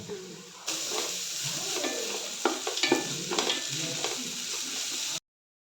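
Biryani masala with garlic and ginger is sautéed in a pan, giving a close, steady sizzle. A spoon scrapes and stirs in short bursts over it, then the sound cuts to silence near the end.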